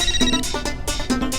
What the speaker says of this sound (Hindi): ओए रोशन, मैं कब से तुझे फोन ट्राई कर रहा हूँ, तू मेरा फोन क्यों नहीं उठा रही?